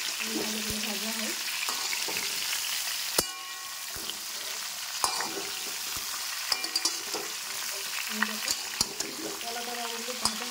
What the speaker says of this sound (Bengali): আমটাকে নাড়তে থাকবে যাতে কালার হয়ে না যায়,